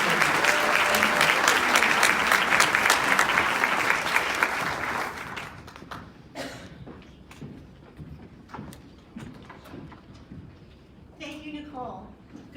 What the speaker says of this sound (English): Please give them a round of applause as they come to the stage.